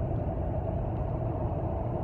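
A steady engine hum and road rumble from inside a car being driven on a foggy early morning, even and unbroken with no voices.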